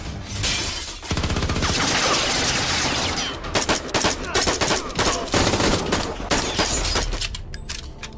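Gunfire from a film scene: rapid automatic bursts and single loud shots crack in quick succession, with breaking, shattering debris, filling the space before trailing off.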